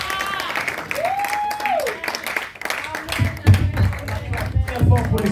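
A church congregation at a French-language sermon stands to applaud and acclaim the Lord. Scattered clapping builds up beneath a voice speaking and singing, then swells louder toward the end.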